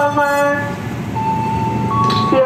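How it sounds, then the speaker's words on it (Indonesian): A JR 205 electric commuter train bound for Bekasi on the Cakung–Jatinegara line passes close by with a loud steady rumble, sustained tonal horn-like hum and rising whine near the end; no talking. "Yang barusan tadi masuk adalah JR 205 tujuan Bekasi"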